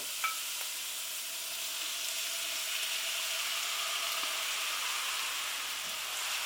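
Soya mince sizzling steadily in a hot pan for a vegan shepherd's pie, a continuous even hiss of frying with faint clicks, no voices.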